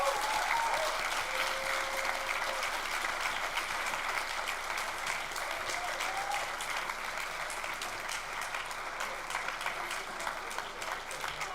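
Sustained audience applause at a TEDx event in Heilbronn honoring the speakers, a dense, steady clapping from a crowd that holds evenly throughout without fading.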